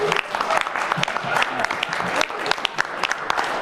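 An audience claps for three newly elected club members, a dense burst of hand claps that continues throughout, with a voice speaking over part of it.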